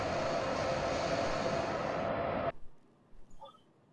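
A long freight train of tanker wagons hauled by a BR189 locomotive on the Hamburg–Hanover line in Train Simulator 2015 gives a loud, steady broadband rumble that cuts off abruptly halfway through, leaving faint quiet sounds.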